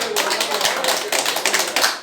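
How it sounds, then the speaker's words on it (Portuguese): A church congregation applauds, dense broadband clapping sustained evenly from start to finish with no talk over it. "Pode aplaudir porque Ele é bom."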